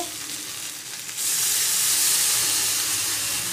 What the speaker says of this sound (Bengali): আলুটা দিয়ে অনেকক্ষণ কমিয়ে রেখেছিলাম ঢাকা দিয়ে, এবার একটু জল দিয়ে নিব।